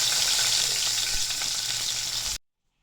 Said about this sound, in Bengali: কড়াতে কালো জিরে আর শুকনো লঙ্কা ফোড়ন দিয়ে দিলাম